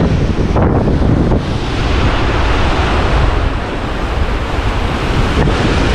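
Strong wind at the seashore buffets the microphone over steady crashing surf, a loud, roaring rush with gusts swelling and easing throughout.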